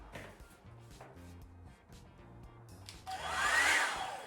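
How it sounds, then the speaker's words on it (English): A Revlon blow dry brush switches on near the end, a rising airy whoosh that swells and holds briefly after a quiet stretch of soft tonal background sound. "Okay, now I'm going to plug in the Revlon brush."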